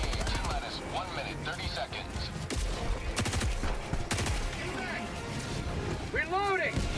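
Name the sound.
light machine gun (LMG) firing in video game Helldivers 2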